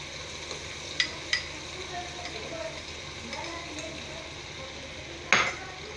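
Yogurt fried with potatoes in a pot for Sindhi potato pulao, a low steady sizzle broken by a few sharp spoon clinks against the pan, with soft talking in the background.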